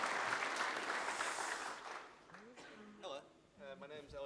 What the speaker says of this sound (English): Elliot, big round of applause, Elliot.